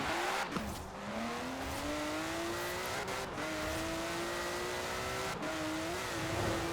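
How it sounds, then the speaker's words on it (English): A twin-turbo classic Porsche accelerates hard in the Forza Horizon 4 racing game, its engine climbing steadily in pitch with brief dips at each gear shift and a constant loud roar throughout. "the way he just picks up speed. It's so quick"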